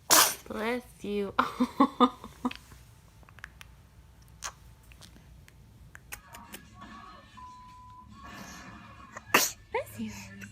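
A baby sneezes several times in quick succession, with sharp bursts close by and adults chattering and cooing around it.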